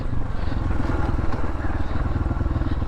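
A dirt bike engine revs hard in fifth gear while riding through bush, a loud, close, buzzing drone that holds steady for a few seconds without letting up.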